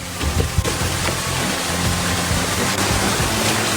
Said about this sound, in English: It sounds like there's water ahead.